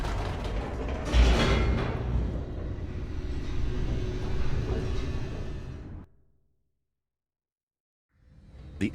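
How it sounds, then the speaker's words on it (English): Elevator in The Stanley Parable descending, a steady mechanical rumble with creaking, grinding gears running for about six seconds, then cutting to silence before the machinery noise returns near the end. "The elevator raced downward, plummeting towards an unknown fate."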